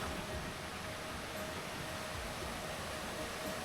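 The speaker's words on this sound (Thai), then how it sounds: "เสียงน้ำไหลเสียงนี้จะได้ยินไปฮอดบ้านเฮาครับ" Steady broadband rush of water flowing down a forest waterfall, continuous and fairly loud with no breaks, heard alone without talk.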